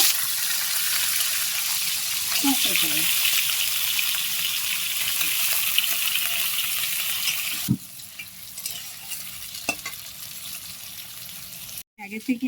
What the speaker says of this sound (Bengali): এই তেলেই আমি আলুটা ভেজে নেব